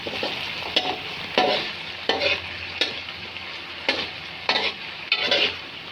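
Potatoes with half a spoon of cumin fry in a pan with a steady, close sizzle, broken by regular scraping stirs roughly every second.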